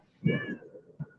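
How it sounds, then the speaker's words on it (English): A cat meows once with a clear rising-falling call during an online group call, followed by a short low sound; no speech at that moment. "is that a cat?"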